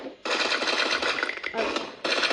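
Rapid, continuous automatic gunfire in the mobile shooter game Free Fire, loud and close, with one brief break before the volley resumes.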